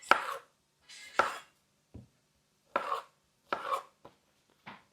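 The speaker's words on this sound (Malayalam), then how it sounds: "അങ്ങനെ നമ്മൾ തക്കാളി അരിഞ്ഞ് കഴിഞ്ഞു." Tomatoes being diced with a knife for Ramadan cooking: about seven crisp, separate knife strikes on a board, close and clear with pauses between them, and no voices.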